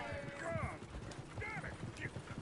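Horse hooves clip-clop steadily in a PS4 video game as a coach moves about, with in-game voices talking over the rhythmic hoofbeats.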